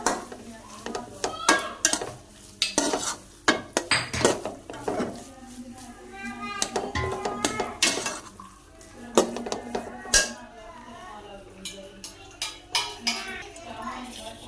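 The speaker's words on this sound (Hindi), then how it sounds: "खोया डालने के बाद मिक्स करते हैं अच्छे से" A spoon stirs khoya into fried grated carrot halwa in a metal pan, making repeated scraping clinks and knocks against the pan in an uneven rhythm, close and clear, while someone speaks over it.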